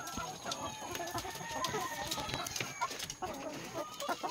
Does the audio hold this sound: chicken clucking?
yes